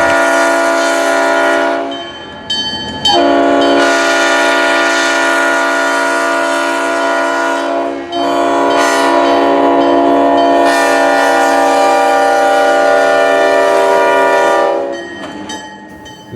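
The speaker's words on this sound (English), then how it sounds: "Now the Seaboard System 1030 heads toward Tavares." Seaboard System locomotive 1030, a vintage diesel, rolls past near Tavares blasting its multi-chime horn in several long, loud blasts with short gaps, rumbling engine and rail noise underneath throughout.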